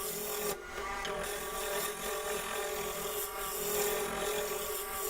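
A roughing gouge cuts a spinning wooden blank on a lathe to bring it round, giving a steady, loud, rasping whir with a faint tonal hum underneath and brief surges in intensity, with no voices.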